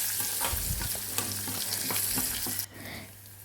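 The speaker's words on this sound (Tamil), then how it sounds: "இப்போ கடுகு பொரியட்டும்" Mustard seeds splutter in hot oil for tomato rasam, a loud close crackling hiss with scattered pops, then a sudden drop to a quieter sizzle near the end.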